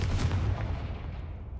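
Confringo fire spell in Hogwarts Legacy going off as one loud, booming blast that rolls out into a fading rumble and crackle with no voices.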